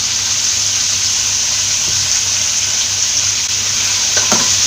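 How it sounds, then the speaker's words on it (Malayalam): Diced potatoes fry in a pan for a Kottayam-style chicken biryani, giving a steady, loud broadband sizzle with faint scraping as they are stirred, no voices. "ചെറുതായിട്ടൊന്ന് ഇളക്കി കൊടുക്കാം."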